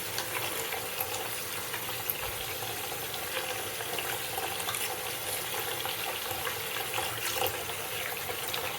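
Cool tap water runs steadily into a basin to soak a woven wool piece, a constant hissing rush of water at moderate level without pauses.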